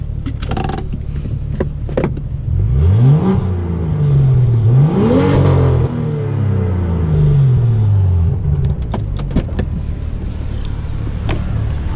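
A BMW M2 revs hard, its engine note sweeping up and down in several rising and falling pulls over a steady low rumble, close and loud, with no talking.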